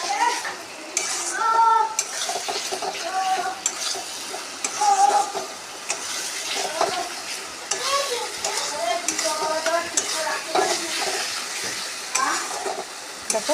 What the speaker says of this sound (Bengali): চলো বন্ধুরা দেখো মশলাটা ভালোভাবে নেড়ে নিই